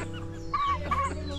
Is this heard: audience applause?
no